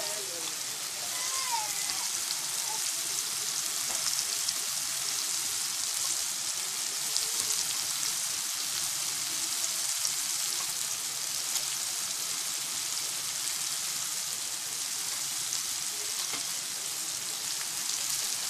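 Carrots and capsicum frying in a pan while cooking chicken Maggi masala noodles, giving a steady, dense sizzle that holds at an even level throughout.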